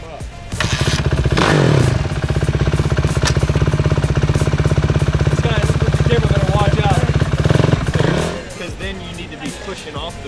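A Suzuki motorcycle engine fires up and runs, a loud rapid buzzing drone that starts abruptly, holds steady revs near the microphone for several seconds, then cuts off, with people talking around it.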